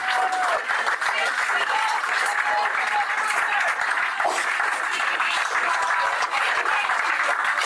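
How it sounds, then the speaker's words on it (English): A crowd cheering and applauding at a live gig after a band's final song of the night, a steady dense wash of clapping and hollering that fills the room, with voices mixed into the roar. "Obviously the last song of the night, as the crowd goes wild"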